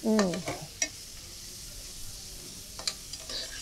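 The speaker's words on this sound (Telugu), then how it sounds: "ఇలా మెంతుకూరని వేసిన తర్వాత మనం మెంతుకూరని ఇందులో మంచిగా ఫ్రై చేసుకుందామండి" Fresh fenugreek leaves stir-fried in a pan for a methi chicken curry, giving a soft continuous sizzle with scraping stirs from a spatula; there is a brief voice near the start.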